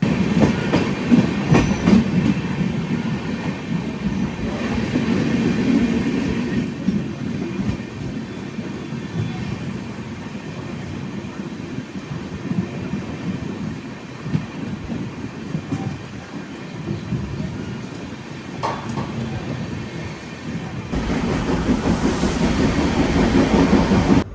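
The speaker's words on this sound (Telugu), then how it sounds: "బయలుదేరింది బండి." Aboard the Netravati Express sleeper train as it pulls away and runs along the rails, a steady rumbling roll with rhythmic clickety-clack of the wheels, loud and continuous throughout with no talking.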